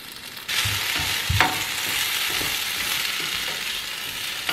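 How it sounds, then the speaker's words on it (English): Seasoned potato pieces sizzle and fry steadily in a hot pan, a loud continuous crackle with a brief stir partway through and no talking. "I'm finna let these do they sizzle for a minute. Let them get brown"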